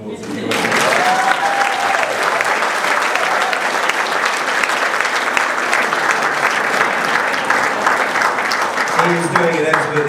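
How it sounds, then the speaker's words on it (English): An audience at a keynote speech breaks into a loud, sustained round of applause for the MC, dense clapping starting abruptly and holding steady for about ten seconds, with a voice briefly audible at the start and near the end. "give Ross a round of applause."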